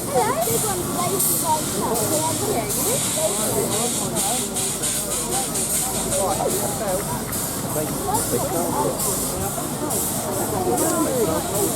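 Steady, loud steam hissing from a steam engine's open drain cocks at a steam rally runs throughout, with a rhythmic chuffing pulse beneath it, close by.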